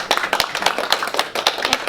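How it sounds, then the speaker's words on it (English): Audience clapping at a primary school honours program, a dense run of sharp hand claps filling the whole stretch at steady loudness, close and lively with no talk over it. "Let's give them a clap."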